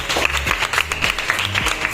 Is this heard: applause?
yes